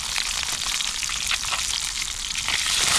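Fish frying in oil in a pan makes a steady, loud, close sizzle with crackling pops that runs continuously and swells slightly toward the end.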